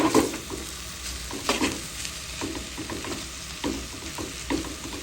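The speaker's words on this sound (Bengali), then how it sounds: "দিয়ে একটু নেড়ে চেড়ে নিব।" Mashed eggplant being stirred in a pan, with a soft background sizzle and regular scraping strokes of a spoon, close and moderately loud, no talking.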